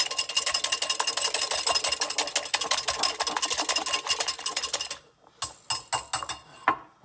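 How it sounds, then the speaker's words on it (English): A utensil rapidly beating butter into one egg in a small baby bowl, a fast, steady rhythm of clinking taps that breaks off at the end into a few sparse, louder knocks. "I'm going to take the butter and beat it into the one egg."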